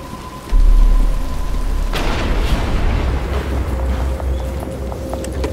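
Heavy rain pours down in Batman Arkham Asylum, a loud steady hiss that bursts in suddenly with a deep rumble of thunder, then continues under scattered sharper drips and hits.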